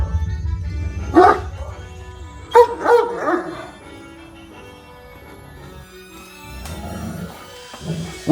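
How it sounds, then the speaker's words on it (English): Great Dane dog barking and yelping close by, several deep loud barks in bursts separated by quieter whimpers and pauses, with no talk. "Great Dane."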